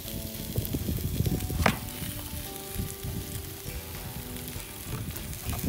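Veggie burger patties sizzle steadily on hot outdoor grill grates, a continuous close crackle and hiss with small pops and a brief louder scrape early on, no voices.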